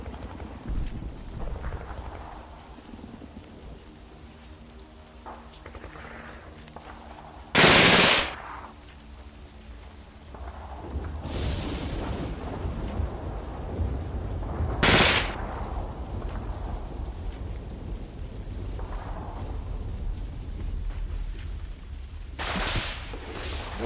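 Several sharp, loud bursts of machine gun fire ring out in the Combat Mission Red Thunder wartime strategy game, spaced seconds apart over a constant low rumble of battle noise.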